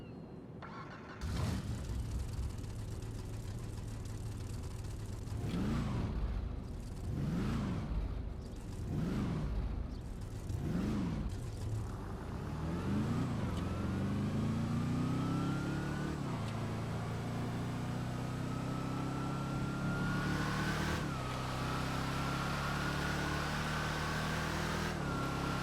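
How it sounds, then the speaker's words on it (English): A supercharged car engine in GTA Online revs repeatedly in sharp bursts, then climbs steadily through a long acceleration with a rising supercharger whine over the exhaust roar, loud and close. "the supercharger whine is nearly as loud as the exhaust sound"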